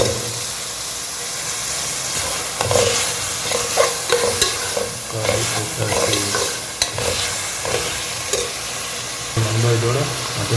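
Tomato frying in a pan for beef biryani, a loud close sizzle and hiss with repeated stirring scrapes and spoon knocks against the pan.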